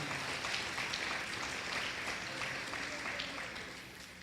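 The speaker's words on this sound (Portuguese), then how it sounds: "Você pode aplaudir Jesus" A church congregation applauds during a sermon, a steady wash of many hands clapping throughout, fading slightly toward the end.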